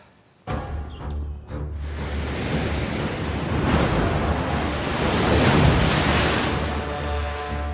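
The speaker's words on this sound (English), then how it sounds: "I have no doubt about the power of waves, the power of the sea" Heavy sea waves crash and surge at Eddystone Rock off the English coast, a loud, continuous roar of surf with wind noise that swells and builds across the clip, with no voices.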